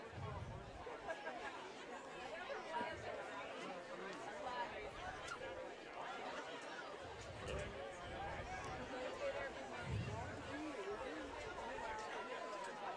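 Steady crowd chatter and babble fills the stands at a Placer vs Natomas high school football playoff game, a dense continuous hubbub with occasional louder swells and no single voice standing out.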